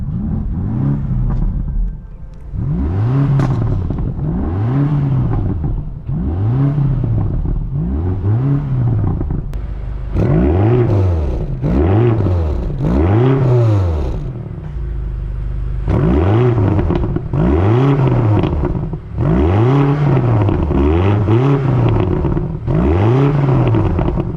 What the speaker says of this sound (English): let's give it a couple more revs